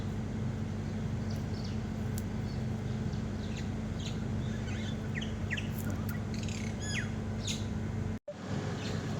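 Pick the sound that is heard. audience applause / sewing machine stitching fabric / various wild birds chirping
various wild birds chirping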